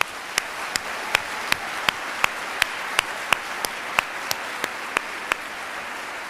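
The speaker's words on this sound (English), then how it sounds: "Let's have a warm round of applause for everyone joining us today." Scattered claps from a small audience at a medical school white coat ceremony, a dozen or so sharp, evenly spaced hand claps, thin and sparse rather than a full ovation.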